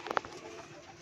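A pigeon gives a brief, faint coo near the start of a short moment, followed by quiet background noise.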